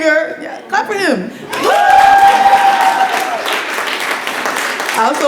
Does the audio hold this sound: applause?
yes